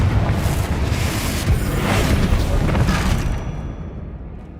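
Confringo blasting spell exploding in the video game Hogwarts Legacy, a loud, sustained rumbling boom that rolls on for several seconds before fading into quiet.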